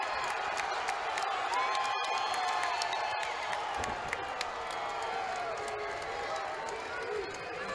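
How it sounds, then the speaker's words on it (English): A dense, steady roar of an MMA event crowd cheering wildly at a Connecticut-based fight night, a continuous wash of shouts and whoops holding loud throughout with scattered claps, no clear voice standing out. "The heavily Connecticut-based crowd here is going absolutely wild for their man Yuri Panferov."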